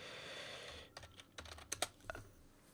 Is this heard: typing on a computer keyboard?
yes